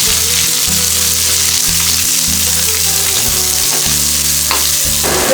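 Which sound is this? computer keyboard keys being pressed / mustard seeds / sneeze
mustard seeds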